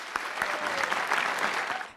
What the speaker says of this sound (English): I think you owe yourselves a big round of applause for that.